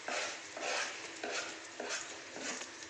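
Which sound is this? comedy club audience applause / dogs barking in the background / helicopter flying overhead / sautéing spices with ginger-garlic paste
sautéing spices with ginger-garlic paste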